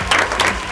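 Applause from a judge's panel at an X Factor talent show: a brief, loud burst of clapping with a crowd-like wash, close and without talk.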